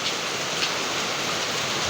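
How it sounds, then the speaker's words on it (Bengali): Steady rain after a long heatwave pours down as a dense, even hiss of drops with no pauses or voices. "অনেক দিন পর বৃষ্টি ছুটে পেলাম আসলে অনেক দিন ধরে বৃষ্টি হয় না"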